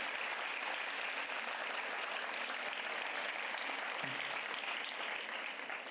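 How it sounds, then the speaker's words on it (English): A graduation ceremony audience at St. Charles Women's PU College in Bangalore claps steadily and densely throughout, a continuous wash of applause from a large crowd. "Give yourselves a big round of applause."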